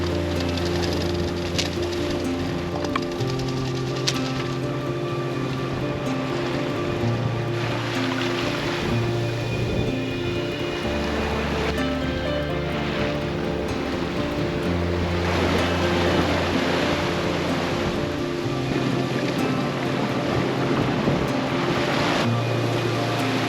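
A sailboat motoring across the Caribbean Sea, a loud steady engine drone with shifting low hum under rushing waves and wind, continuous and close throughout.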